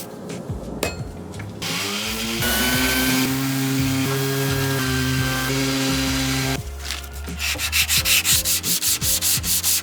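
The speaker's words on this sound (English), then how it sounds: "And here comes the orbital sander" Orbital sander scuff sanding the sides of a dresser, a loud continuous whirring rasp that runs for several seconds, then shifts to a rougher pulsing scrub near the end.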